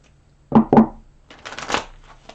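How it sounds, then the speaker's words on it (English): Two quick riffles of tarot cards being shuffled close up, followed by a softer, longer sliding shuffle, with no talking. "One more shuffle."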